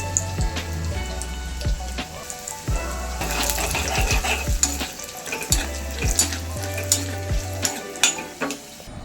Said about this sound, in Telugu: అందులో నెయ్యి కాస్త వేసుకుందాం. డ్రై ఫ్రూట్స్ ఫ్రై చేసుకుందాం.